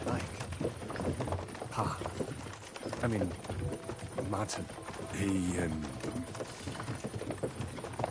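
Horses gallop with a steady clip-clop of hooves in the Kingdom Come II video game, running under continuous talk and music throughout the scene.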